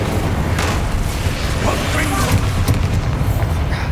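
Confringo fire spell explosions in Hogwarts Legacy: dense, continuous booming blasts and bursts roll through the whole stretch. Spell-casting voices sit faintly under the noise.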